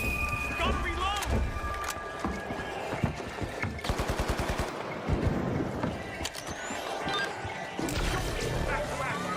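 A minigun spins up and fires in a shooter video game in long, rapid rattling bursts with mechanical whirring between volleys, loud and close, while a player talks over it.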